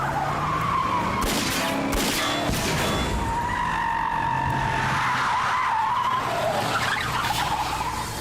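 A car driving fast and skidding, tires squealing and wailing in long sweeping bursts over a loud engine roar, close and intense for the whole stretch with no talk.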